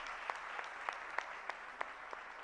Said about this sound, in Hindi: जरा तालियां जरूर बजाइएगा